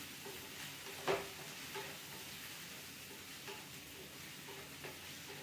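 Beef cooking in a pan, a steady low sizzle with occasional stirring scrapes and a sharper clatter near the start, close and moderately quiet.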